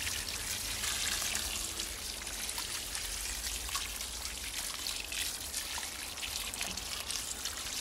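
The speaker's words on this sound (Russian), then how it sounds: "проливаю горячей водой" Hot water pours onto freshly dug garden soil before planting zucchini seedlings, a continuous close trickling and splashing stream with no talk.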